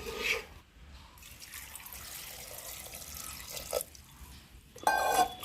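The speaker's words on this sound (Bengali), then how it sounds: "প্রেসার কুকারে জল দিয়ে দিলাম" Water being poured into a pressure cooker over jackfruit pieces, a soft splashing trickle with a few louder gushes and clinks, fairly quiet and close.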